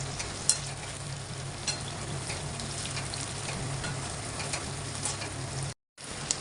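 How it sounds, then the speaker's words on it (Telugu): Sliced onions frying in ghee for chicken dum biryani, a dense continuous sizzle with occasional stirring scrapes, close and loud, cut briefly by a moment of silence near the end; no voices. "నెయ్యిలో ఆనియన్స్ని మంచిగా ఫ్రై చేసుకోవాలి."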